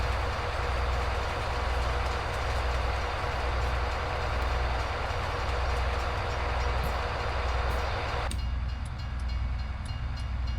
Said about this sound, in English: You have saved me so many times from getting hit by that stupid train.